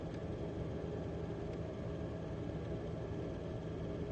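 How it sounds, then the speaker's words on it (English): A car driving past at night near a street intersection, a steady low engine rumble and road noise that stays fairly close and even throughout, with no talk over it. "Oh, here's a car."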